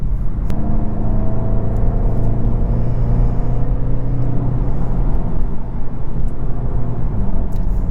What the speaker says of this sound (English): This 8th generation Volkswagen Golf GTI is quick.